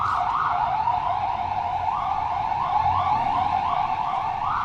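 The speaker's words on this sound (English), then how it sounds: "You got the fire truck here and ambulance down there." A fire truck and an ambulance wail on a city street in Astoria, Queens, their loud sirens cycling steadily and overlapping with constant traffic rumble underneath.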